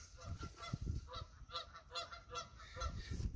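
Geese on a Texas farm honking repeatedly in a rapid, overlapping chorus, faint and somewhat distant, with no speech.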